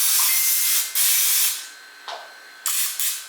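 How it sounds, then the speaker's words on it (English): Cooking spray hisses from an aerosol can onto a cornbread pan in several close, loud bursts of varying length with brief pauses between them. "Let me go ahead and spray my pan down."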